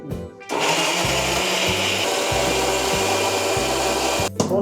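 A mixer grinder whirs loudly as it grinds shallots, coconut, cumin, curry leaves and tomato, starting up after a brief pause with a steady motor drone and rhythmic pulsing thumps, then briefly cutting out near the end.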